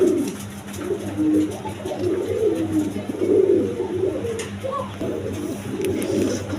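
Pigeons coo repeatedly in low, rolling phrases close by, with a male pigeon displaying near a female at a bird seller's stall, over a steady background hum.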